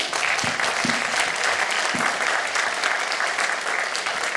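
Sustained applause from an audience at a temple dance and kundalini demonstration, dense steady clapping for students with no talk over it.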